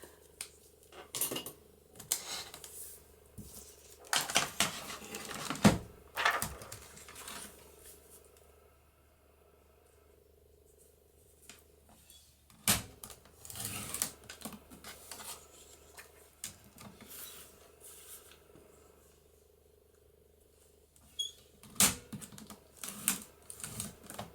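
Scissors snip repeatedly through an acetate sheet for journal embellishments, in clusters of crisp close cuts separated by quiet pauses and light handling rustle.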